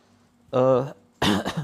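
Two short bursts of coughing and throat clearing after choking on something, the first harsh and voiced, the second a rougher double hack, close and fairly loud with quiet gaps between.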